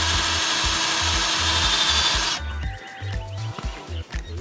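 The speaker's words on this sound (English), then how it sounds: "Definitely going to drill into my roof." Power drill boring into a vehicle roof, a steady loud whirring grind for over two seconds that then stops, followed by a few scattered clunks and handling noises, with no talking.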